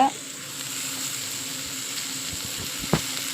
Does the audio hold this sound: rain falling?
no